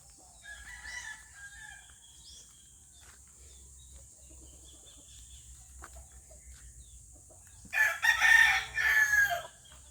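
Laying hens in a backyard coop at morning feeding, soft scattered clucks early, then a louder close burst of cackling near the end over quiet surroundings.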